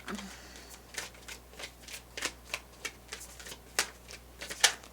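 Tarot cards being shuffled by cold hands in steady, slightly uneven strokes, soft papery slaps repeating close up over a faint low hum.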